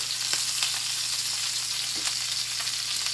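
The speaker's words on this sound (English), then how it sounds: "I'm going to go into my pan with some butter" Butter sizzling and crackling in a hot pan with steak, a loud, close, continuous fry with no talking.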